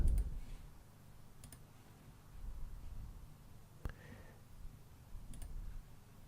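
Faint, sparse computer mouse clicks while setting up a virtual machine, a few isolated sharp ticks spread seconds apart over quiet background hum, with no talking.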